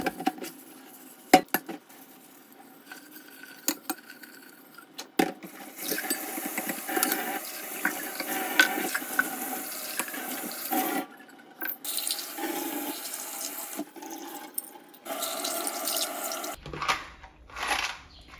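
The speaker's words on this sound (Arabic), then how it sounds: "هنبتدي اول حاجه نغسل الجارز دي كلها من جوه ومن بره" Glass jars being washed inside and out for candle making: close clinks and rubbing against glass with splashes of water, irregular and busy over a quiet background.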